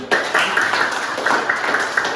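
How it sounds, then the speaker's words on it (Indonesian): A classroom of students applauds, a steady, dense patter of many hands clapping at even loudness for a couple of seconds with no talking. "Berikan tepuk tangan dulu."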